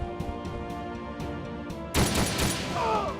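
Gunfire exchange in the tactical video game Ghost Recon: Shadow Wars: quieter game sounds with soft hits give way to a loud, dense burst of shots and crashing impacts near the end.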